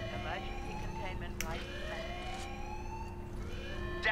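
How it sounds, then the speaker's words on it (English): An alarm siren wails in Warhammer 40,000: Space Marine, a steady rising-and-falling electronic tone over a low droning hum, joined by a synthetic announcer voice and brief bursts of game noise. "Alarm. Structural damage. Warning."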